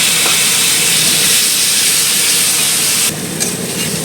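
Water poured into a hot pan of frying potatoes with chilli powder, spices and salt, cooked for a Bengali rui fish curry, throws up a loud, steady sizzling hiss that eases slightly after three seconds.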